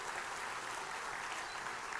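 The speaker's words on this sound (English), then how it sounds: "How about a round of applause for her?" Audience applause aboard a cruise ship during a media event, a steady dense wash of clapping held for two seconds at moderate distance, fairly quiet, with no voices over it.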